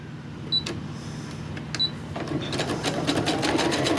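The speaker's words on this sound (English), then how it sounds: "I'm going to go ahead and switch to a different decorative stitch." A sewing machine runs a decorative stitch on a crazy crumb quilt block, with a few short bursts and clicks first, then a steady rapid mechanical stitching that grows louder.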